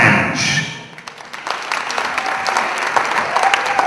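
Audience at a hair colour product launch clapping, a dense burst of applause that dips briefly and then builds again into steady clapping from a sizable crowd, close and fairly loud.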